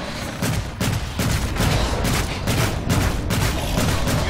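Sustained rapid gunfire from an Evolve video game battle against a stage 3 Goliath monster, loud, dense volleys of repeated shots in regular bursts with no pauses.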